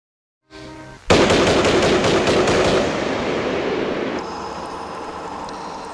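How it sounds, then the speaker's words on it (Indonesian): Automatic weapons fire in a World War II battle scene between Russian and Japanese forces: a sudden loud sustained burst of rapid machine-gun shots that lasts several seconds, then fades into a lingering rumble. "Kemudian Akiyoko langsung melepaskan tembakan"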